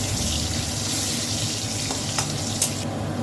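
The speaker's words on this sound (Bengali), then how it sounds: "আলুটাকে বেশ ভালো করে লাল লাল করে ভেজে নেব।" Potatoes sizzle steadily in hot oil with turmeric and salt, a dense continuous frying hiss with a couple of faint clinks of stirring near the end.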